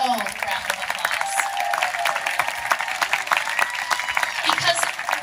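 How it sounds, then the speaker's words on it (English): Applause from the audience at the inauguration of the Port of Seattle president, a steady round of clapping for the speaker's mother, dense and sustained throughout with some crowd murmur mixed in. "can you all indulge me this moment to publicly embarrass her and give her her very own round of applause"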